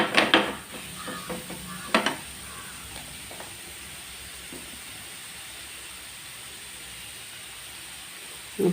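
Tomato and curry leaves sauté in oil for a fish curry. A burst of clattering stir strokes comes first, then a quieter, steady frying hiss that continues alone, with a brief knock near the end.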